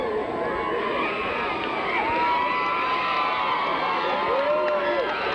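Crowd and cheerleaders cheering at a 1991 high school football championship game between Hudson and Bartlett, a dense, steady roar of many voices with shouts rising throughout.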